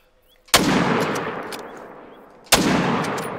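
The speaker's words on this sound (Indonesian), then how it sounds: "Tuh tembakan kedua nggak kena guys ya" Two loud gunshots from the hunting video game theHunter: Call of the Wild, about two seconds apart, each with a sharp crack and a long echoing decay, with no talking.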